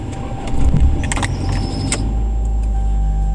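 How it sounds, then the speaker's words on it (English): A 1990 Toyota Corolla with a newly replaced transmission cranks and starts in a hot garage: keys jangle, the starter whirs briefly, then the engine catches into a steady loud rumble close by. "we're gonna get it started up here"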